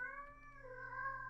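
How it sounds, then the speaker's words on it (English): A house cat gives a single drawn-out meow, faint and close, with a wavering tone that dips and rises again over about a second and a half. "Sorry, that's my cat."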